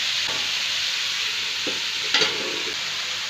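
Brinjal and onion sautéing in oil, a constant loud hiss of frying with a few soft stirring scrapes and one sharper clink.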